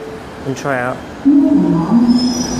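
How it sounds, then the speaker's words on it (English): A London Underground train pulling away from a platform, a low rising rumble with a high, steady tone building as it departs, close by, while someone speaks briefly at the start. "I have to get this far to try it before the train leaves"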